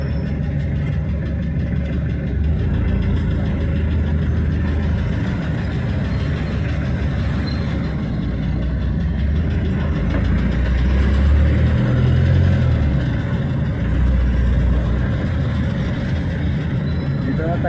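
Heavy city street traffic in Bacolod City, with many old and newer vehicles crowding the road. A constant engine rumble rises and swells around the middle, with a person talking over it.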